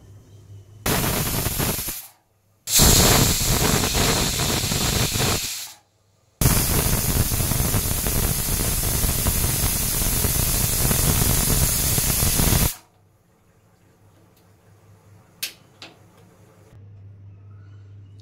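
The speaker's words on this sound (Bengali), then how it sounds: "আমি এই মাছগুলো ততক্ষণে ধুয়ে নিচ্ছি।" Raw fish being rinsed under running water from a tap, three loud gushing bursts of splashing water with short pauses between, followed by quiet room sound with a few faint knocks.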